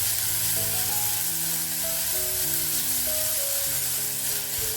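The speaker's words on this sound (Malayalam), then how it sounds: "ഒരു 2 വറ്റൽമുളക്, കുറച്ച് കറിവേപ്പില, ഇതൊക്കെ നമുക്ക് നന്നായിട്ടൊന്ന് വാട്ടിയെടുക്കാം." Shallots, garlic, dried chillies and curry leaves sauté in hot oil for a Kerala-style meal, a steady, close sizzle running throughout beneath tuneful background music.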